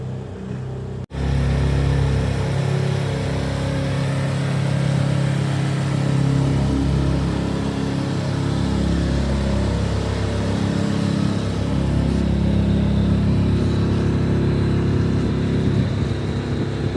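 A boat's dual outboard motors pull it up to speed, a loud, close engine roar that starts abruptly after a brief gap and then holds a strong, steady drone with a slowly rising pitch, and no one speaks.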